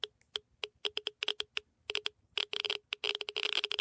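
A vintage 1979 compact radioactivity meter clicking, sharp dry ticks arriving in irregular bursts, sparse at first and then faster and denser, close and fairly quiet.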